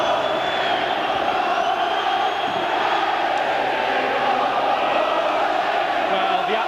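A Wrexham football crowd at the Racecourse Ground roars without a break after a late goal against Ipswich Town, a dense, loud and constant wall of cheering and shouting from a big stadium crowd.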